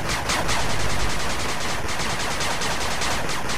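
Rapid, unbroken turret gunfire from the video game 8-Bit Armies, a loud, steady stream of closely spaced shots with no pauses.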